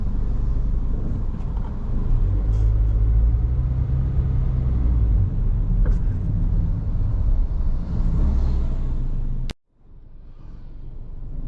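A car drives through 7:30 p.m. traffic on the Cotai Strip in Macau, a steady, loud low engine and road rumble throughout that cuts out abruptly near the end, with no talking.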